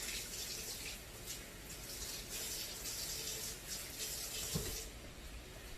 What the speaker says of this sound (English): Wash our hands after touching the raw meat.